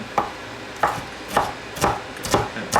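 A knife chops peppers on a cutting board in about six evenly spaced, crisp strikes, close and clear over quiet kitchen background, with no voices.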